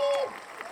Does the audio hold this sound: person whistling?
no